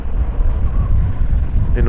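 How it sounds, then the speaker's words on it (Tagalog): Strong, stormy wind in Cebu buffets the microphone with a loud, continuous roar and rumble. A voice briefly starts at the very end. "May parang bagyo pala dito sa Cebu"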